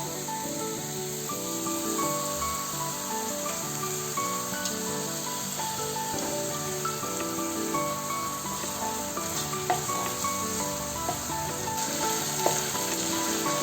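Minced chicken frying in a pan, with a constant close sizzle and crackle and occasional stirring scrapes, steady and fairly loud throughout with no talking.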